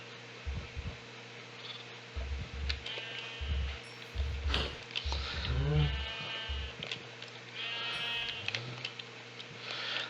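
Minecraft sheep bleat several times over a steady electronic hum and game-like background tones, with short low thuds scattered throughout.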